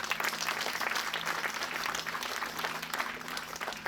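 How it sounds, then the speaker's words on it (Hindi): Sustained, fairly close applause from a gathered audience at a spiritual assembly, honouring a man named Sharma ji, with dense, even clapping throughout. "एक बार इस सम्मान के लिए फिर से ताली बजाओ।"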